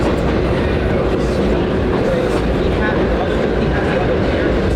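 A New York City 1 subway train, a holiday nostalgia train running in Manhattan, rumbles steadily with continuous wheel and track noise. The roar stays loud and close throughout, and faint voices come through underneath it.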